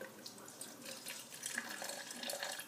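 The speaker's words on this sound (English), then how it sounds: "So pour in about 1 fluid ounce" Vinegar pours into a measuring container for a chemistry experiment, a steady close trickle of liquid with faint splashy bubbling that builds slightly over a couple of seconds, no voices.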